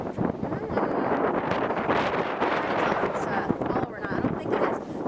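Gusty wind buffets the microphone outdoors at Lake Los Angeles, a continuous rough rumble that swells and dips with the gusts, loud and close throughout.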